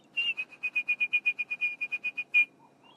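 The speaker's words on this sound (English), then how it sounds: "a lot more bird song today for some reason." A bright, clear bird call repeated in a quick series of about fifteen even notes, fairly close, followed by a couple of softer distant calls, on a sunrise safari drive.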